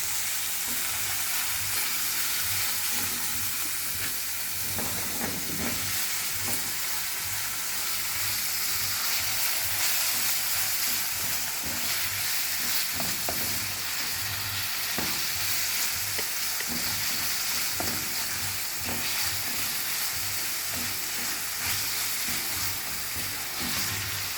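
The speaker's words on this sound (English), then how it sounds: "Now I'll be adding my already marinated steak." Marinated steak strips sizzle and fry in a hot pan with a steady, broad hiss, punctuated by occasional stirring clatter, continuous and close with no talking.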